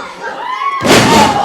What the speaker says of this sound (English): T-bone suplex out of the corner.